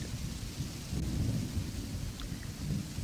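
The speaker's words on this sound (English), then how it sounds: "It's raining." Steady rain and low rolling thunder from a video game, a continuous broadband wash with deep rumbling swells, moderately loud with no voices.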